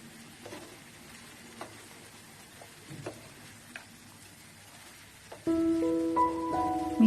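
Bottle gourd, moong dal and bori curry with a spoon of sugar being stirred in a pan: a soft, steady sizzle broken by occasional scraping strokes, swelling louder and busier toward the end, with no talking.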